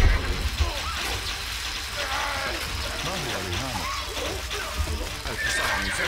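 Horses neigh and whinny amid a busy Stronghold Crusade battle, the calls repeating over constant game clatter and effects while players chatter throughout.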